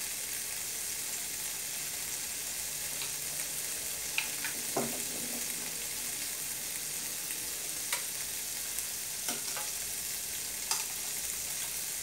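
Bacon and meat fry with seasonings in a pan, making a quiet, even sizzle throughout, with occasional faint taps and scrapes from a utensil.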